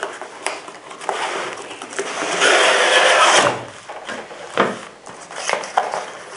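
A Weaver Buck Commander 2-8x36 rifle scope box is opened close by: crinkly rustles, soft knocks and scraping of cardboard and packing material come in bursts, with one longer crackling rustle in the middle.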